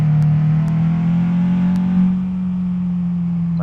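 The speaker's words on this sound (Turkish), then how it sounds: "Vitesi 1'e takıyorum. El freni indiriyorum ve yola başlıyoruz arkadaşlar." A Tofaş Şahin car engine in Euro Truck Simulator 2 drones loudly and steadily as the car pulls away, with its pitch rising slightly and then settling, and a few faint clicks above it.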